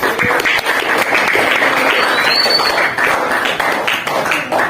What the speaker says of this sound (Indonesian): Tepuk tangan untuk Nabil dan Mubarak.